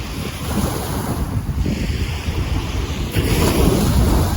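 Loud, continuous rush of Black Sea waves breaking on the shore at Chornomorsk, mixed with strong wind noise rumbling across the microphone.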